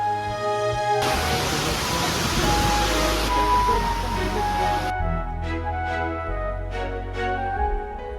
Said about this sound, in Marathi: पाऊस एकदम मोठा यायला लागला